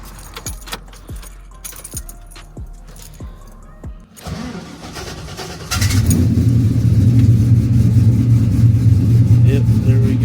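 Keys jangle in rhythmic clinks before a V8 engine in an LS-swapped OBS Chevy truck cranks and starts, then settles into a loud, steady, rumbling idle.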